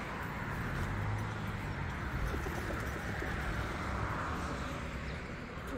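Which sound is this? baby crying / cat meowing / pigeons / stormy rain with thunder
pigeons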